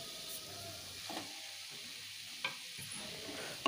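A chili broccoli masala sautés in a pan, giving a faint, soft sizzle with a few quiet stirring scrapes and light taps, heard close but at low volume.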